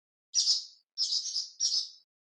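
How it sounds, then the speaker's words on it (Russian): Swallow chirping: three high twittering calls, the middle one longer and warbling, close and clear against silence. "Ласточка."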